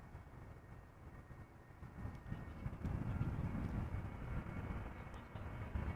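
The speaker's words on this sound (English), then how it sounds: "Another Vueling, another A320neo, this one coming in from Barcelona." Vueling Airbus A320neo arriving from Barcelona to land at Amsterdam Schiphol in gusty wind, a low steady jet rumble that swells louder partway through and holds, with wind noise.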